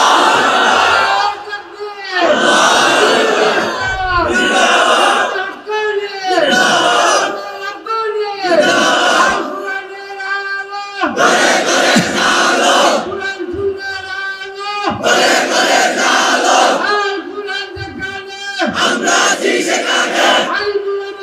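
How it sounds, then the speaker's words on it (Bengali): A large crowd at a religious sermon roars takbir and slogans in loud, repeated call-and-response bursts, massed voices chanting in unison with short pauses between rounds, close and powerful. "তোমরাই স্লোগান দাও, তোমরাই তাকবীর বলো"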